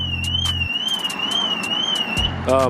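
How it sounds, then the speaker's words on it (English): A BMW G42 M240 car alarm sounds with a steady, wavering electronic tone and rapid pulsing beeps. It is loud and close, with a low hum underneath that cuts out and then returns. "And there goes my alarm"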